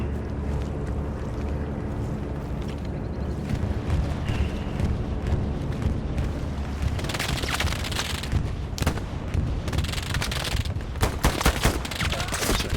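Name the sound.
gunfire firefight in the video game Hell Let Loose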